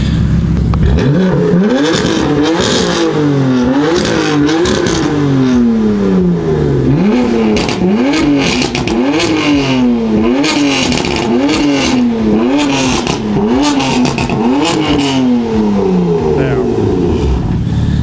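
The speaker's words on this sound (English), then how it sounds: "I want to see how the Remus exhaust compares to the Valvetronic." A BMW G80 M3 fitted with Remus and Valvetronic exhausts revs hard again and again, loud and close, each blip climbing sharply and then falling back in a steady sawtooth rhythm over a constant engine drone.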